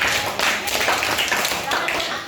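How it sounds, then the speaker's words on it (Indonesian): A class of students claps for a classmate named Raffi, a dense patter of many hands filling the room at close range for a couple of seconds. "tepuk tangan untuk Raffi"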